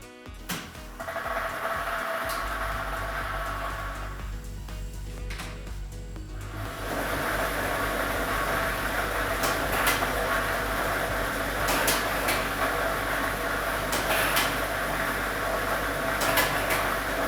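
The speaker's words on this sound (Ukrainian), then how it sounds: "І ми вмикаємо лототрон." A lottery draw machine (lototron B, ball set number 1) runs at a state lottery drawing for Loto Maksyma, giving a steady, loud whirring roar with the balls rattling continuously throughout, with no talk.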